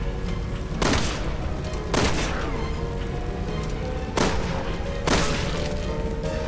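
Gunfire at zombies in Resident Evil 6, four loud, booming shots spaced about a second apart, each with a ringing tail, over a low rumbling game ambience.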